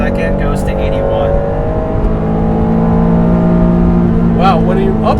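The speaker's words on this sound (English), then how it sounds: "when VTEC kicks in, it's nice. It gives it a little extra throatiness to it." A stock 1991 Acura NSX, North America's first VTEC engine, accelerates hard in a low gear on an open road. A loud, continuous engine drone climbs steadily in pitch over the whole stretch, with a faint voice-like sound in the background.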